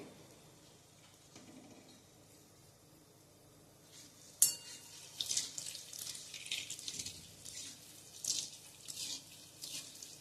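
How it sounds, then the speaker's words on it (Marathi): Sweet potato gulab jamun balls frying in hot ghee: after a quiet start, a sudden burst of bubbling hiss erupts and then keeps sputtering in uneven surges, close by, with no voices. "आता हे मी तळून घेते."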